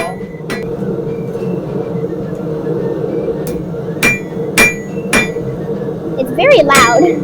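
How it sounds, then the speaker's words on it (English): Blacksmith at a colonial American demonstration drawing out hot metal on an anvil, sharp ringing hammer strikes scattered over a few seconds amid a continuous low background rumble and crowd noise, with bright clinks near the end. "So drawing the metal out means making it thinner and narrower on the anvil."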